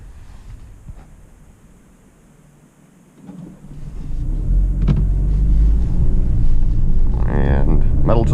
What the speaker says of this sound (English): we'll give it some acceleration here